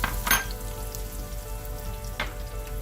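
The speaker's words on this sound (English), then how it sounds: "you're going to add your onions, and we're going to saute our onions down really well till it's nice and brown" Onions sauteing in a pan for a beef shank coconut cashew korma, a steady loud sizzle and crackle with a couple of sharper stirring bursts, close up with no talking.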